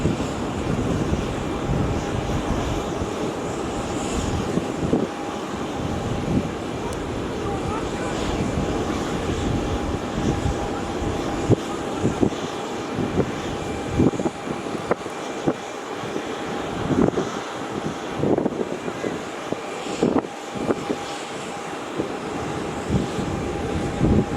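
A Virgin Australia Boeing 737 on final approach at Melbourne Airport gives a steady, distant jet rumble under heavy wind noise for the whole stretch.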